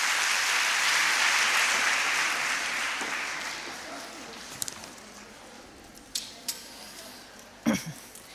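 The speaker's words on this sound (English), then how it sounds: "please clap for your Vice Chancellor" Audience applause for a university Vice Chancellor at an event held with the World Bank and PIDE, a broad wash of clapping that swells early and gradually thins, with a few louder knocks near the end.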